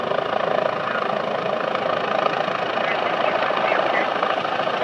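A medical helicopter lands in a cemetery in Dennisville, NJ, its steady loud rotor and turbine roar filling the whole stretch at close range, with people talking faintly beneath it.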